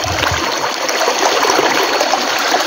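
A river stream flows beside a cucumber garden, a close, loud, even rush and babble of water continuing without pause and without voices.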